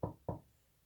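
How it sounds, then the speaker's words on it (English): Two quick knocks on a wooden surface, close and sharp, a quarter second apart, followed by near silence. "knock on wood"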